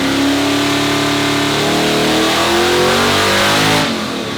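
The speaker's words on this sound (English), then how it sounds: "The first challenge was a dyno pull, so Team USA bolted the Mustang up to the hubs" A Ford Mustang V8 strapped to a hub dyno revs hard at full throttle, a loud sustained roar with rising harmonics that climbs in pitch, then drops off abruptly near the end of the pull.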